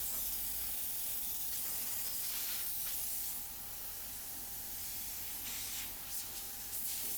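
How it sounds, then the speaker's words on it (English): Compressed air blasting from an air compressor nozzle onto a Renault Megane Scenic car seat, a steady loud hiss running the whole time with brief surges, and no talking. "When I touch that seat with the air compressor"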